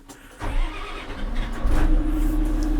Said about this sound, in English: I'm going to start her up